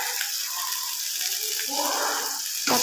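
Water poured into a pan of potato curry during home cooking, a steady splashing pour that swells and roughens toward the end, closing with a brief louder clatter.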